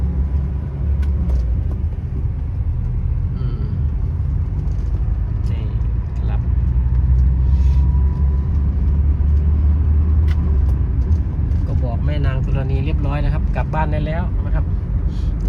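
An old Mercedes-Benz W123 car drives on a road under an expressway, its steady low engine rumble and road noise continuous throughout, with someone talking over it.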